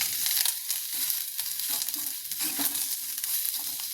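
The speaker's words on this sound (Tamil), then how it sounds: "பச்சை வாசனை போகிற வரைக்கும் கொஞ்சம் நல்லா வதக்கிக்கணுங்க." Onions and curry leaves sauté in a pan for a Tamil snake gourd poriyal, a steady bright sizzle with soft stirring scrapes running throughout, close and continuous with no talking.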